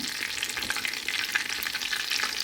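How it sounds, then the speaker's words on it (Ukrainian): Unbreaded pork schnitzels fry in a well-used pan, giving a steady, close, dense sizzle with fine crackling that continues without pause and with no voices. "Ну ніби жаряться."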